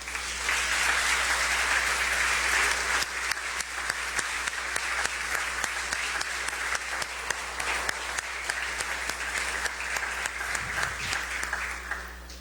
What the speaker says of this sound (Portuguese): Vamos aplaudir o Senhor pela sua palavra.